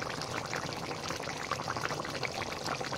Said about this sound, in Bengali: দেখো মাংসটা কি সুন্দর ফুটছে।